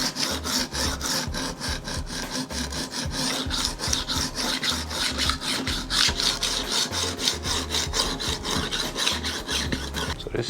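Chef knife ground on a diamond sharpening stone, fast rhythmic back-and-forth rasping strokes repeating steadily and close up, with no voices.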